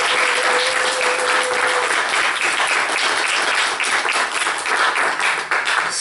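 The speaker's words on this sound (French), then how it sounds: "permettez-moi de vous demander une fois de plus d'applaudir Madame Deguy." Audience clapping for Madame Deguy, a sustained, dense round of applause from many hands, loud and close, holding steady for several seconds with a faint tone briefly audible early on.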